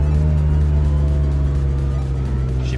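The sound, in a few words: car engine revving with exhaust opening up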